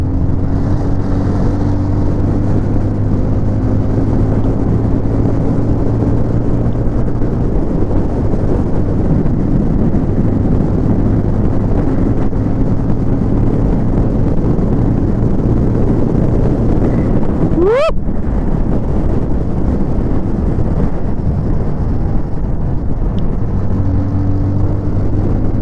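A Bajaj Pulsar 220F motorcycle cruises along with a steady engine drone heavily buffeted by wind noise, holding a constant pitch and loudness for the whole ride, with one brief sharp swoosh near the end.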